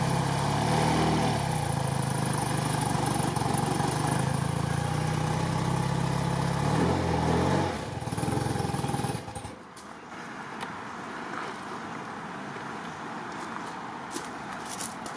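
A 1985 BMW R80RT motorcycle with rebuilt carbs, cold and just fired up, runs with a steady close engine drone for about nine seconds, then drops to a quieter, rougher idle.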